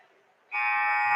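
A loud, sustained electronic buzzer ends a hockey period, cutting in abruptly and holding steady after a faint stretch of arena murmur.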